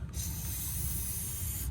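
PB Blaster penetrating oil sprays in a steady continuous hiss onto rusty hub bolts during a wheel bearing hub assembly job, loud and close, lasting over a second and a half with no talk.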